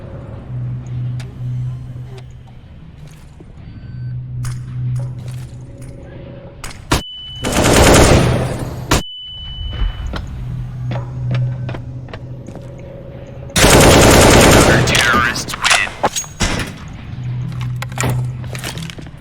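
Gunfire in CS:GO, with loud bursts of automatic fire in two long volleys and scattered single shots between them, over quieter game ambience and engine-like hum.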